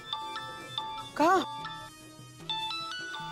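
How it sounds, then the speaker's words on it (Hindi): A melodic phone ringtone plays a stepped, repeating tune nearby, with one short spoken word cutting in briefly midway. "घंटी तो यहीं कहीं बज रही है।"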